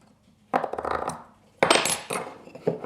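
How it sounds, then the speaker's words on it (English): Marking knife scoring wood along a square, two or three distinct bursts of scraping and cutting, close and fairly crisp with short pauses between strokes. "I can drop my knife right into that first pass that I made, slide my square over, and go ahead and make my cuts."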